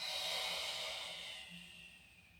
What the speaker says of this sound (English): Breathing in and exhaling.